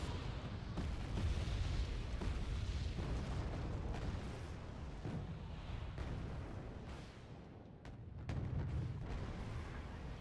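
Leopard 2A4 tanks firing in the strategy video game Wargame Red Dragon: dense, rumbling heavy booms layered with battle noise, continuing almost without pause and steadily loud.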